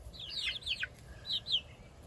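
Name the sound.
chickens clucking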